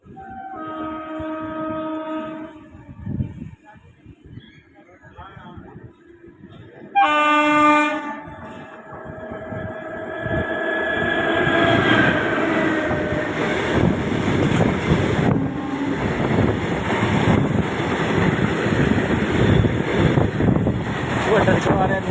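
An Indian Railways Paschim Superfast Express sounds its horn twice in long tonal blasts, then its passing rumble and wheel clatter swell and stay loud and close, with wind buffeting the microphone.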